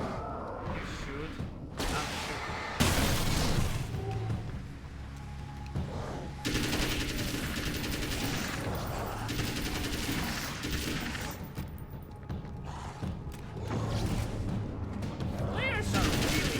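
Rapid automatic gunfire and booming shots in the video game Alan Wake's American Nightmare, loud sustained bursts over a dense soundtrack, with a player's voice talking over parts of it.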